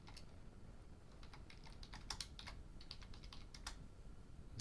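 Computer keyboard typing a new folder name, a quick, uneven run of soft clicking keystrokes that comes in small bursts with short pauses, faint and close, heard without any voices over it.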